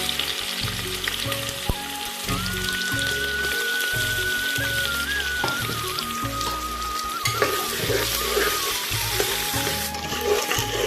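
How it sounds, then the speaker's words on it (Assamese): Onions frying in hot oil with cloves and cardamom for an Assamese pig ear dish, a steady close sizzle with crackling pops running throughout while background music plays. "পিঁয়াজখিনি একদম গল্ডেন কালাৰ নোহোৱালৈকে ভাজি থাকিব লাগিব"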